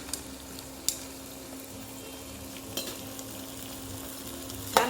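Edible gum (dink) frying in hot ghee, a steady close crackling sizzle with a few sharp pops and clicks scattered throughout.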